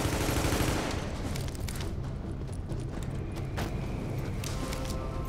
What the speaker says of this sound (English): I'm just gonna assault rifle him a little bit